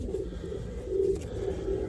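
A racing pigeon gives soft, low coos close by, a few short murmuring phrases in a quiet room with no talking.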